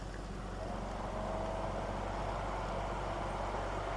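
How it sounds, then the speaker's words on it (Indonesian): A low, steady hum and whoosh of the air conditioning running in a Citroen C3, quiet and unchanging throughout. "Ini suara AC-nya"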